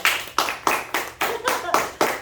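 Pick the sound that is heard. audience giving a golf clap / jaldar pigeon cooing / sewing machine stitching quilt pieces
audience giving a golf clap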